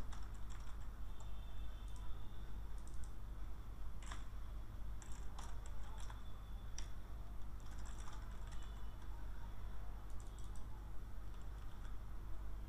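Address typed on a computer keyboard: sparse, light keystroke clicks in short bursts over a steady low hum, quiet and with no talking.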